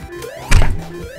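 A single short jump sound effect from the Sonic Generations video game, a brief punchy thump with a bright sweep rising in the middle, set against quieter game music.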